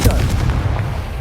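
A Confringo fire spell blast in the Hogwarts Legacy video game, a single loud booming burst that hits at once and decays into a rumbling low tail over about a second, heard alone.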